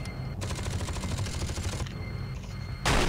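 Rapid automatic gunfire in the video game Alien vs Predator 2, a dense rattling burst lasting over a second, then a quieter pause and another sharp burst at the end, heard fairly close with no talk.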